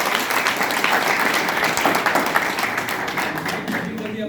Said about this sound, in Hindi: अपने प्यारे बच्चों की तरफ से जोरदार तालियों से